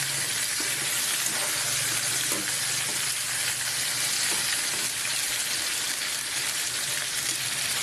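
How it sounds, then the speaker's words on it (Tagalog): Marinated chicken adobo fries in its own rendered oil in a pan and is stirred to keep it from sticking, making a loud, dense, continuous sizzle with faint scraping underneath. "Siyempre haluin natin para hindi po madikit."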